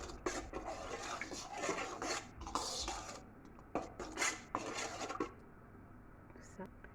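Milk, baker's yeast and sugar being stirred together in a bowl: irregular scraping and rasping strokes of a utensil against the bowl, close and fairly loud, coming in bursts before trailing off into quiet.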